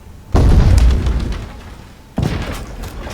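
Turret gunfire in the Roblox game Edward the Man-Eating Train, fired from an armored train car: two loud booming blasts, each with a rumbling tail that fades out.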